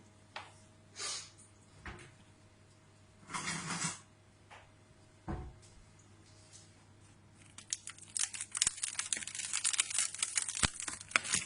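Baguette crust crackles and crunches near the mic, a few scattered rustles at first, then a dense run of crisp crackling toward the end.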